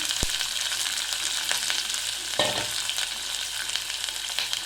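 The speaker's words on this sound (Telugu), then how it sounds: "పల్లీలు వేగాక ఆనియన్ వేసుకోవాలి" Peanuts and onions fry in a pan for upma, a continuous close hissing sizzle with small crackles and a couple of utensil knocks.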